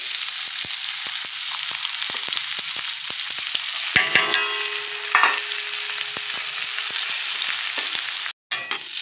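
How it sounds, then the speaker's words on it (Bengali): Onions fry in hot oil for a Catla fish dish, giving a loud, even crackling sizzle with sharp ticks of stirring throughout and a momentary dropout near the end. "তেলের মধ্যে পেঁয়াজ দিয়ে দিলাম"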